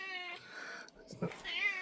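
A pet cat meows repeatedly, a few drawn-out close mews indoors with brief handling noise between them.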